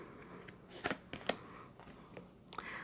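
Tarot cards are drawn and laid out, soft close card slides and a few crisp snaps and flicks over quiet room tone, with a faint voice in the background.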